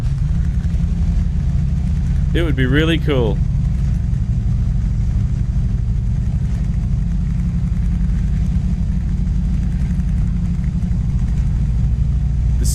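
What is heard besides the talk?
DAF truck engine revving in Euro Truck Simulator 2 video game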